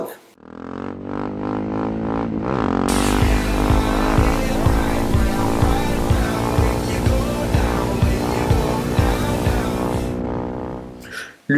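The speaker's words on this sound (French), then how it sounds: "je sais parfaitement passer les vitesses en moto" Motorcycle engine revs hard through rising gear shifts during a wheelie, loud and close, with a sharp rev climb, then sustained high-pitched acceleration that cuts off abruptly near the end.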